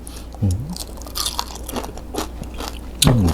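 Crispy grilled pork from a Thai moo kratha meal is bitten with a loud, close crunch, followed by quieter chewing and a second sharp crunching bite near the end.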